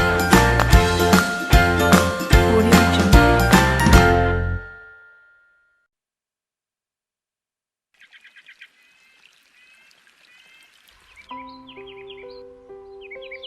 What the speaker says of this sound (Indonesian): Kicauan ini terancam tak terdengar lagi karena saat ini hampir 250 spesies burung di Indonesia terancam punah